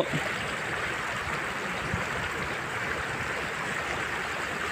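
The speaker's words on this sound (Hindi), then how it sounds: "नदी नाले बिल्कुल उफान पर हैं" A mountain stream in Himachal Pradesh, flooded after heavy rain, rushes in a steady broadband roar, moderately loud and continuous throughout, with no talking.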